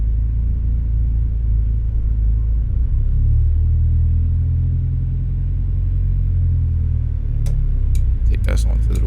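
A 2011 Volkswagen Polo GTI engine in American Truck Simulator rumbles low and steady, droning continuously with slight shifts in pitch, loud and close, with a few sharp clicks near the end.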